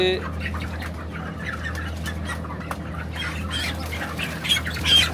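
Broiler chickens raised on home-made feed squawk and cluck in a crowded shed during weighing, a dense flock chorus with sharper cries near the end over a steady low hum.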